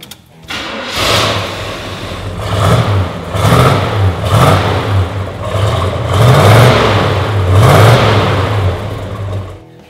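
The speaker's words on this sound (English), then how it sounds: "How about I go ahead and fire it up so you can hear what it sounds like." A 1970 Chevrolet Chevelle SS396 with its original 396 V8 starts and runs loud and close, its exhaust rumbling through a string of throttle blips.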